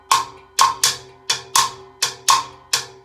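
Cascara pattern in 3-2 clave struck with sticks on a timbale shell, a handful of sharp, bright wooden clicks in a syncopated repeating figure, close and alone.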